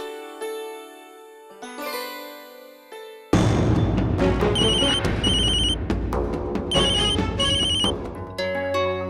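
A telephone rings in repeated bursts of bright, electronic tones, first faint and thin, then loud and full against a dense musical backdrop, with no speech.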